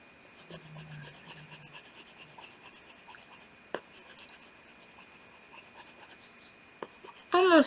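Colored pencils or markers scratching and rubbing across paper while a cat drawing is colored in, a soft continuous scribbling texture with a couple of faint taps, close and quiet, no talking.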